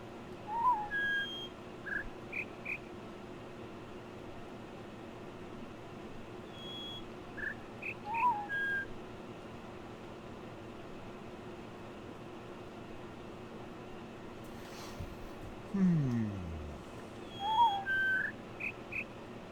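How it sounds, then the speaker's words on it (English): Bird whistle notes from the video game The Witness: short, faint chirps and whistles repeat in small clusters every few seconds over a steady ambient hum, with a lower swooping tone near the end. "I still hear 6 notes from 3 birds, though."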